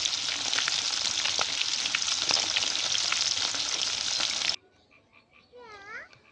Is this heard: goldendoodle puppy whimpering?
no